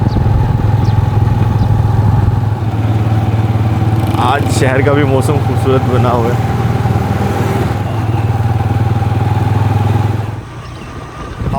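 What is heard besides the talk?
motorcycle riding on a village track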